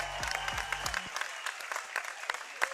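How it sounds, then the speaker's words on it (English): Audience at a trampwall competition claps in a steady, fairly close patter of scattered hand claps, with a brief low voice heard at the start. "Everyone give him a round of applause."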